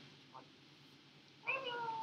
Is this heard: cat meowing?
yes